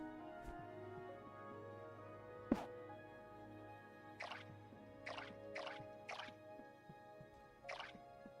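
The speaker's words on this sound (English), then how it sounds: "You can water empty plots?" Watering crop plots in the video game Core Keeper: a short run of soft, bright splashing drips in quick succession over a quiet game background with a steady ambient hum.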